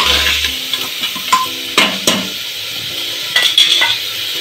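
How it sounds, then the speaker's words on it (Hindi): Chopped tomatoes fry in a pan for dal tadka, a quiet sizzle broken by sharp clinks and scrapes of a spoon against the pan, loud and close, with no voices. "अब इसमें हम कटे हुए टमाटर डाल देंगे थोड़ी भूजेंगे थोड़ी देर के लिए उसे हम लाल होने देंगे"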